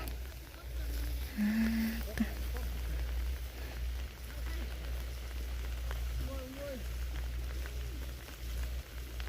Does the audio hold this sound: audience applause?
no